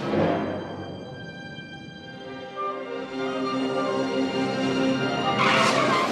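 Race car from the animated film Cars skidding, a loud tire squeal with a rising engine whine that sustains, ending in a brief burst of harsh noise.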